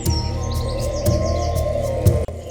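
Birds call in the morning around a hill resort in Purulia, with bright repeated chirps over a constant low hum, close and clear.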